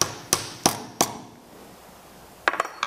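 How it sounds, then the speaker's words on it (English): Pencils being struck with a hammer: three sharp metallic taps at an even pace, a pause, then a quick cluster of lighter taps, close and clear with no talking. "I can now take the pencils and hammer them."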